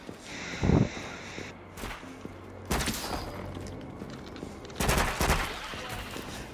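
Gunfire from the hip in the PSVR 2 game After The Fall, three loud bursts of rapid shots spaced a couple of seconds apart, with footsteps and game noise between them and a voice talking.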